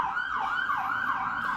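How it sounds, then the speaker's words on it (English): An emergency vehicle siren wails on a New York street, its pitch sweeping up and down in repeated rising and falling cycles, loud and steady with no voices. "Forgive all the sirens."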